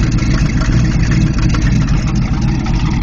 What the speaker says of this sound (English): this engine was just put in this car